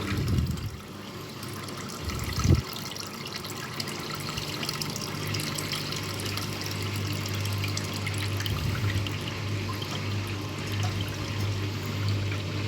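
Scrap washing machine draining water after a rinse cycle: a continuous rushing, gurgling flow with a low pump hum underneath and a couple of brief knocks early on, fairly quiet and steady throughout.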